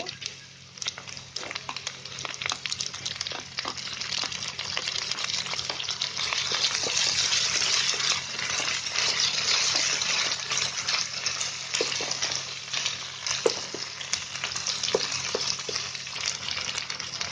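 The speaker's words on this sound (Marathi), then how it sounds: "आता त्याच्यामध्ये टोमॅटो टाकते." Tomatoes tossed into a hot pan for egg fried rice fry with a steady, loud sizzle that swells and lingers, with faint stirring scrapes now and then.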